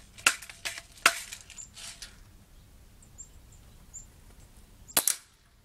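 Three sharp shots from an Airmaster 77 pump air rifle fired at cans, two close together near the start and one after a quiet gap, with faint small clinks between.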